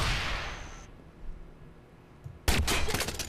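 Gunfire in the Watch Dogs video game: after a quieter stretch with a couple of small thumps, a sudden loud burst of shots breaks out and keeps crackling.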